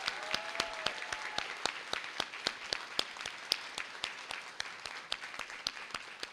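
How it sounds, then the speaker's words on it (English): Applause from an audience at a university honors college graduation celebration, a sparse, fairly faint round of distinct individual claps, sharp and well separated, continuing steadily throughout. "Would you please show your gratitude by giving them a round of applause?"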